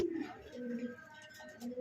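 A pair of round, U-shaped fancy pigeons coo softly and close by in low, rolling calls that repeat through the short stretch, with no other sounds over them.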